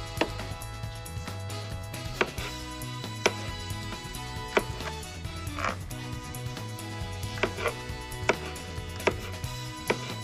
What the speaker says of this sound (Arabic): الثوم الحب رح اقصهم